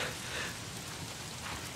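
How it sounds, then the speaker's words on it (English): Steady rain pours in the video game Days Gone, a dense, even hiss of drops striking surfaces that fills the short moment without any other sounds. "Why is it always raining?"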